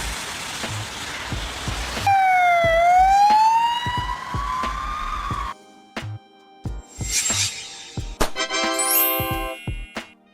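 An ambulance siren in Lithuania wails loud and close in a smooth rising and falling sweep for a few seconds, preceded by rain-like noise and followed by other sharp siren tones and clatter.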